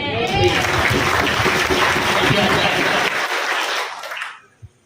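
Church congregation clapping: a dense, loud, sustained burst of applause that holds steady for several seconds, then dies away quickly, leaving a single faint sound at the end.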